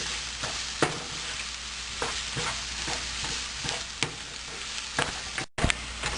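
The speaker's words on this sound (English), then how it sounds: "stirring, adding just pinch of salt so onion can cook very fast." Onions fry in a pan with a pinch of salt for a kadai chicken dish, hissing steadily and close while a utensil scrapes and taps through them at intervals, with one brief break in the sound near the end.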